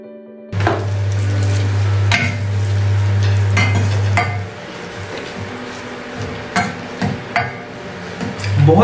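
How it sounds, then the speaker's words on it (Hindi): Bay leaves frying in oil in a pan over a lowered flame, giving a steady sizzle that is loud for the first few seconds and then quieter, broken by a few sharp clinks of a utensil against the pan. "बस हमको इसको तब तक पकाना है जब तक कि ये जो पत्ते हैं इनका थोड़ा सा कलर सबका ब्राउन हो जाता है"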